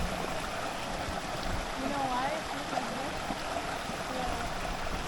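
A forest stream carrying whitish, sulfur-tinged water flows with a soft, steady rush and faint trickling, quiet and continuous near a crater trail.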